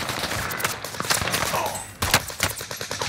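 Bursts of Type 100 automatic gunfire in Call of Duty on Rebirth Island come as rapid, sharp shots in short volleys, loud and close, with game effects around them.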